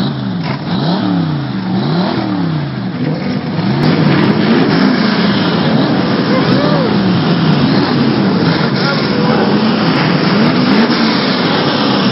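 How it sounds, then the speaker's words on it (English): A car engine, fired up as a final salute at a hometown festival, revs repeatedly in loud rising and falling surges, growing stronger partway through over crowd noise. "When you hear Alan Grant fire his engine"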